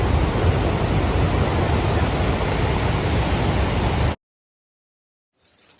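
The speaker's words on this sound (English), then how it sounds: "Waves are already reaching up to the road." Hurricane-driven surf crashes and surges onto a coastal road in Jamaica, a dense, loud roar of water and wind that cuts off abruptly, followed by near silence and a faint brief sound.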